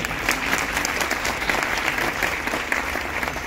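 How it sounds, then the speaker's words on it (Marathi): Sustained audience applause at a Hindustani classical vocal concert in Pune, with the pakhawaj accompanist just introduced. The clapping is dense and steady throughout, a close crowd with no breaks. "टाळ्या कमी होऊ देऊ नका"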